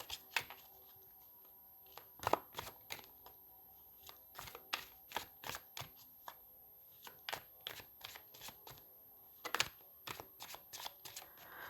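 Tarot cards being shuffled and laid down, a quiet run of crisp, irregular slaps and flicks in loose bursts, close and alone with no talk.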